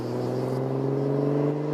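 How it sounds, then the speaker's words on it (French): A Ventra sports car's engine hums steadily and fairly close in the sunbaked Tuscan countryside, a smooth, continuous drone that holds an even pitch with no voices. "un bruit de moteur"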